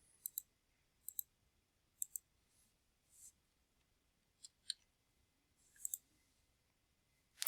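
A computer mouse clicks quietly in short double-tap pairs and single taps, spread irregularly across otherwise near-silent room tone.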